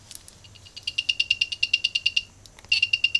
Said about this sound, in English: the buzzer will turn on